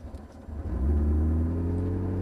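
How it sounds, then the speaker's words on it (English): A McLaren MP4-12C supercar engine cranks and fires up, rising from a brief starter whirr into a loud, deep, steady idle rumble that fills the rest of the moment. "we're going to start the car up"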